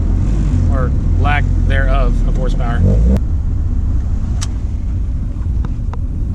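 An Acura Integra car saved from a junkyard, low on horsepower and without plates, rumbles down the road with a steady low engine drone, as a voice talks over it early on.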